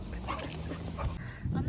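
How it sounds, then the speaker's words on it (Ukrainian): Three dogs out on a walk give soft, brief whimpers and yips, close by, while people talk over and around them. "отут у нас три собаки гуляють"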